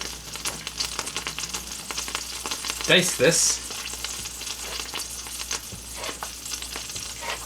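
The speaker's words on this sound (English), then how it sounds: "You can hear the salmon warming up behind me." Salmon warms in a hot pot, sizzling and crackling steadily up close while a person speaks briefly over it and a couple of louder clattering sounds, like stirring or utensils, break in midway.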